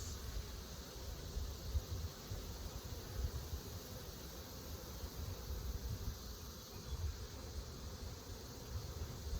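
Honeybees from a swarm colony buzz around an open hive as it is inspected, making a steady, quiet, dense hum with no talk.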